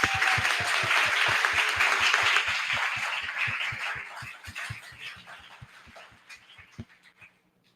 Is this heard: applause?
yes